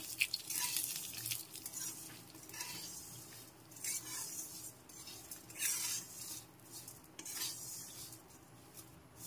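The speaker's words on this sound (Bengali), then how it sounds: "সবকিছু একসাথে ভালো করে নেড়েচেড়ে মিশিয়ে নিতে হবে" Fried flattened rice mixed with chaat masala is stirred in a pan, with a steady run of close scraping, rustling strokes over a soft sizzle and occasional clinks of utensil on metal, no voices.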